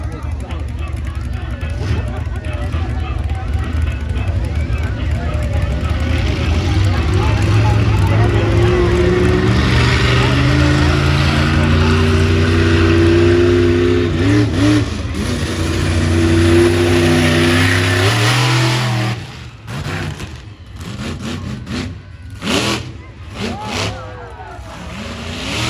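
Monster truck at a Monster Jam event, its big engine roaring and revving in loud rising and falling surges over crowd noise and a booming announcer, then dropping briefly into choppier bursts.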